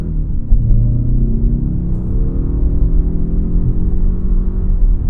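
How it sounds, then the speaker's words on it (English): A 2021 Mazda 3 Turbo sedan pulls hard uphill on a wet road with traction control off, its engine droning low and steady as the tyres spin, a continuous rumble heard from inside the cabin without talk. "I'll turn traction off. Here we go. Tons of wheel spin."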